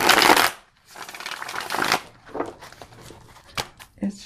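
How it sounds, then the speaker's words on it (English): Crisp papery ruffling bursts of a new AGM deck of playing cards being shuffled, a loud flurry first, then softer riffles and light taps, close up. "So I'm loving the way it shuffles."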